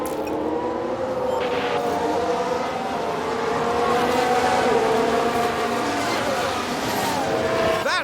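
F1 race cars from F1 Manager 2022 at Bahrain drone with high engine tones that rise and fall as one car overtakes another, steady and loud throughout, with a voice talking over the racing.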